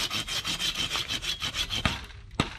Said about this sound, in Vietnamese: Mình cưa cây này nha.